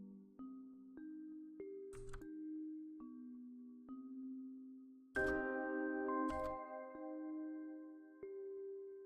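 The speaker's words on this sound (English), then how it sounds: "I like the way those bells sound" Synthetic bell tones play a slow melody in a dark ambient beat, with clear pitched chimes ringing over a sustained low pad and a couple of percussive hits cutting in.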